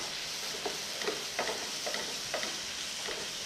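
Bread chilli masala sautéing in a pan gives a faint, steady sizzle with soft intermittent scraping stirs, quiet and without talk.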